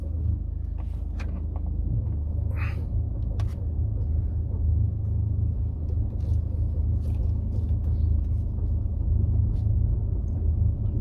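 A car pulls out of the Causeway car park near Pitsford Reservoir, a steady low engine and road rumble heard from inside the cabin, with a few faint clicks and rattles over it.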